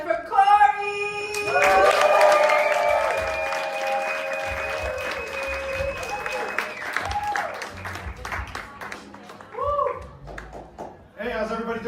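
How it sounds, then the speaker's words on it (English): A comedy club audience at The Second City applauds loudly after an introduction, with a dense burst of clapping that gradually thins out, while music tones play over it. "put your hands together for Cory"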